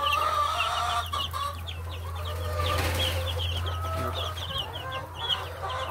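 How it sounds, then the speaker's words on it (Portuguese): Fifteen-day-old free-range chicks peeping and clucking in a farm setting, a busy chorus of close, overlapping calls over a steady low hum. "Só mostrando aqui esses pintinhos aqui, ó."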